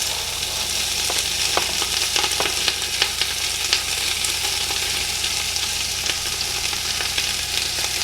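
Fennel and onions fry over low heat in a pan, a dense, close crackling sizzle with scattered clicks and scrapes as they are stirred, with no voices.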